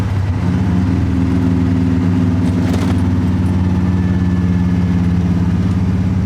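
EFI-swapped AMC AMX engine running under load while driving, a steady loud low drone with a slight roughness that stays constant throughout.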